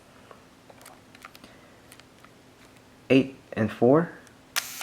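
Several sharp mechanical clicks and a short ratcheting burst from a Leica M6 film camera's shutter and advance, heard close up in the last two seconds after quiet, with faint talk earlier.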